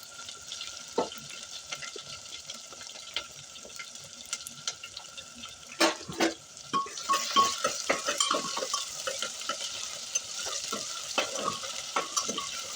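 Onion and potato fry in oil in a pan with a steady sizzle, and stirring scrapes and clinks grow busier and louder partway through.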